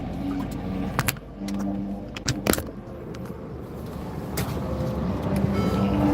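A car engine idles steadily in the background while parked at a Buc-ee's stop, with low continuous rumble broken by scattered clicks and knocks, no talk over it.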